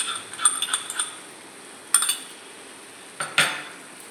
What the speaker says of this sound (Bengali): দইটা দিয়ে কিন্তু নাড়তে হবে